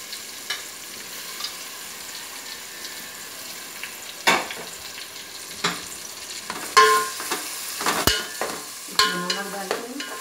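Onions and tomatoes fry in hot oil and ghee in a pot: a soft, steady sizzle broken by sharp scrapes and clatters of a spoon stirring, growing busier toward the end.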